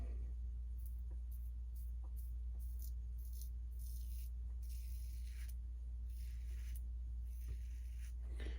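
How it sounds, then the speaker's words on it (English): Razorock Gamechanger .68 safety razor shaving through beard hair: short, crisp scraping strokes repeated in bursts over a steady low background hum, close and without talk. "You can definitely feel it plowing through the hair."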